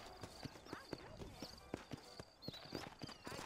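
Horse hooves clip-clop in a steady galloping rhythm in the video game Red Dead Redemption on Xbox 360, with faint whinnies and someone talking over it.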